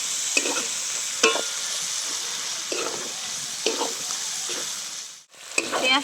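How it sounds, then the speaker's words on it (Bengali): Chopped onion frying in hot oil for a dhaba-style chicken masala curry, a steady close sizzle broken by repeated scraping stirs of a spatula against the pan. "এবার পেঁয়াজটা আমি লাল করে ভেজে নেব।"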